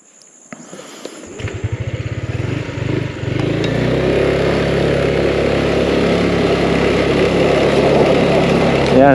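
A Yamaha Aerox scooter engine starts with a sputtering putter, then settles into a loud, steady drone that strains as it climbs uphill, close and continuous.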